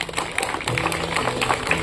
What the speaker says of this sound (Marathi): आपण सगळ्यांनी निवृत्तीसाठी जोरदार टाळ्या वाजवूयात